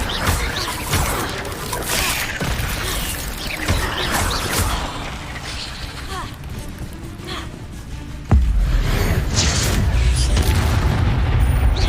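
Incendio fire spell cast in Hogwarts Legacy, a loud roaring burst of flame with rumbling booms and crackle that sustains and then jumps louder near the end, with a few gasps and vocal sounds mixed in.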